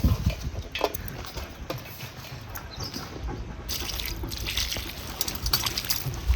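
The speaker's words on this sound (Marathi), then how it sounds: "आता हे असेच पाण्यामध्ये ही मिरची आपल्याला धुवून चांगले घ्यायच्यात" Chillies are swished and rinsed in water, with irregular splashes, drips and light clinks close by, and no talking.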